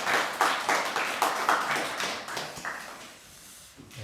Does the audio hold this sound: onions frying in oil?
no